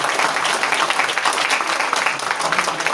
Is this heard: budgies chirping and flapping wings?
no